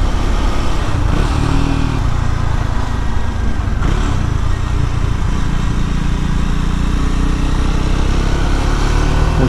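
A Triumph Scrambler 400X single-cylinder motorcycle rides steadily, its engine thrumming loud and continuous beneath strong wind noise with little change in pitch.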